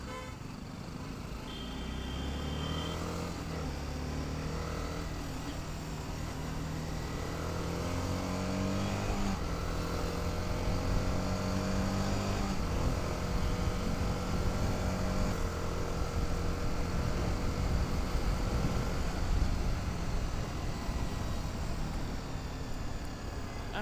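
Steady engine drone and road noise from a motorcycle riding through building traffic on the approach to Chennai, with shifting engine tones rising and falling and a brief high whine, continuous and fairly loud throughout.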